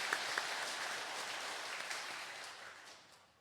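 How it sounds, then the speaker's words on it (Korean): A church congregation at a Catholic Mass applauds to congratulate confirmation recipients, producing a dense, even wash of clapping that holds steady and then fades out toward the end, with no talking over it. "오늘 견진 성사를 받으시는 교우들께 뜨거운 축하의 박수를 부탁드리겠습니다"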